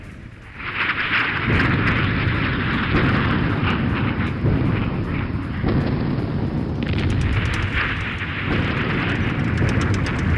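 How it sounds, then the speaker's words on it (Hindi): An Indian Army artillery brigade firing on and destroying targets in a show of strength, a loud, continuous rumbling roar of blasts and booms that swells and dips without pause and carries no speech. "आर्टिलरी ब्रिगेड ने किया है शक्ति प्रदर्शन और टारगेट तबाह कर दुश्मन को कैसे सीधा संदेश दिया गया"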